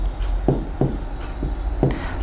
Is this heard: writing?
yes